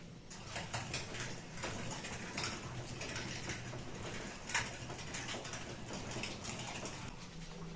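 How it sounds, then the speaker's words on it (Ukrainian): An old hand-cranked mechanical meat grinder minces meat and onion for filling, making a continuous close grinding and rattling churn with faint clicks throughout. "беремо стару добру м'ясорубку механічну, якою треба попрацювати"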